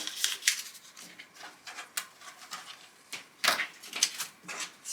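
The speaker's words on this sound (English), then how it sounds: "So I'll show you how I cut my templates out." Scissors snip through paper while cutting out quilt templates, a string of crisp, close cuts at an irregular pace with short pauses between strokes.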